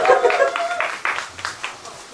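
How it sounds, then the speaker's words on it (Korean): A festival audience at an outdoor pumba show at the Naejangsan autumn foliage festival in Jeongeup gives a short burst of scattered hand claps that thins out quickly, with a voice talking over the start. "박수 한번 주세요!"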